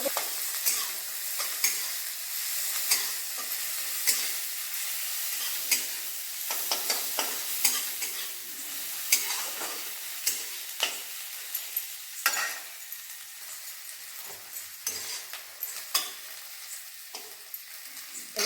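Onion masala fries in a pan with a steady bright sizzle, broken by frequent light scrapes and taps of a stirring spoon, close and continuous throughout.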